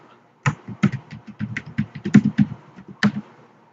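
A password being typed on a computer keyboard: a quick, close run of about a dozen clacky keystrokes after a brief silence, with a harder final tap like an Enter press.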